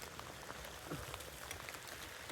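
Steady rain falls outdoors during an Arkansas beaver trapping outing, a dense, even patter of drops across a broad hiss with no break, fairly faint and with no voices.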